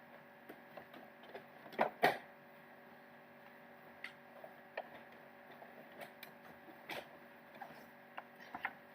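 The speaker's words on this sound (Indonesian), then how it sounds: "Ini kita coba dulu print." A printer running a document job indoors, quiet steady mechanical hum with scattered ticks and a couple of louder clunks near the start, faint and close.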